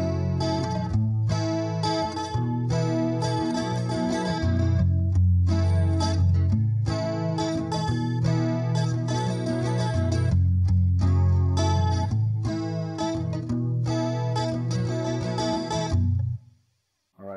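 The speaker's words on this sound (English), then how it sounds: "listen to the Acoustic going through the Acoustikar in jumbo mode" Acoustic guitar run through an Acoustikar acoustic simulator in jumbo mode, strummed in steady rhythmic chords with a full, bright ring, played alone and stopping cleanly near the end.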